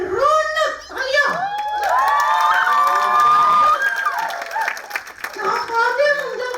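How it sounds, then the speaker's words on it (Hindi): At a radio event stage show, a crowd of children cheers and shouts with scattered clapping, loud excited voices rising and falling over a rough backdrop of hands. "Please welcome our very own मशहूर आरजे रौनक। तालियां।"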